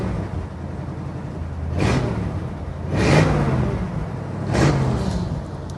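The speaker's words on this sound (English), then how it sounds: "Now listen, that's what a flathead Ford V8 should sound like." A 1946 Mercury convertible's flathead V8 idles with a steady low rumble, swelling in three short revs that fade back to idle, with no voices.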